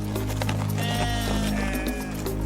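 A bighorn sheep bleats in a wavering, nasal call that rises in the middle of the stretch, set against a low, steady background hum.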